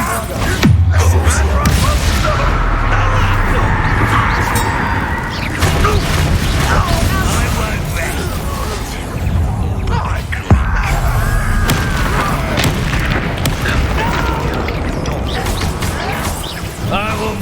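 Bombardo explosive spells in Hogwarts Legacy go off amid combat, heavy crashing and rumbling booms with sharp impacts and debris clatter continuing loudly throughout.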